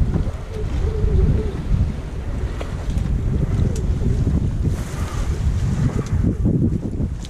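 A Bavaria 32 sailboat under sail at sea, with loud gusting wind buffeting the microphone and water rushing and slapping against the hull in an uneven, continuous wash.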